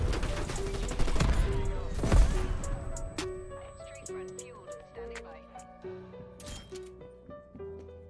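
Gunfire from teammates in Call of Duty: Black Ops Cold War, a loud burst of shots in the first two seconds that gives way to clicking, mechanical game sounds and musical tones.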